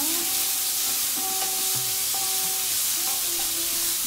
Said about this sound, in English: Add the chopped tomatoes and mix it well until it is completely crushed.